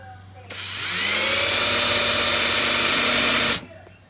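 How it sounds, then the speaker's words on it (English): A power drill driving a screw into a chair leg whirs steadily for about three seconds, its motor pitch rising as it spins up, then cuts off abruptly. "let's drive this screw in"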